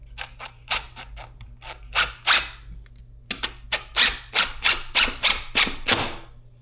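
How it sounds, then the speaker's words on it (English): Screws driven in while installing white cordless faux wood blinds, a string of sharp, rapid clicking bursts from a driver, loud and close, in uneven runs over a low steady hum. "And we're just gonna run our screws in."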